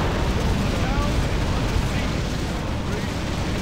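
Dense, continuous rumble of missile explosions fills a Warcraft 3 Reforged battle, a steady roaring wash of blasts with an excited voice talking over it.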